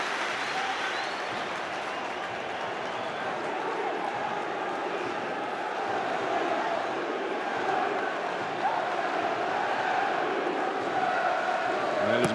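Football crowd at a Leeds v Reading Championship match, a steady broad roar of cheering and applause that swells slightly toward the end, with a commentator's voice over it.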